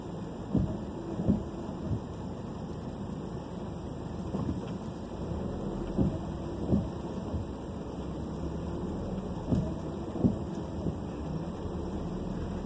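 Steady rain drums on a Volkswagen Tiguan during a wet morning commute in Maryland traffic, a constant broadband wash with a few louder thumps and rumbles recurring through the drive.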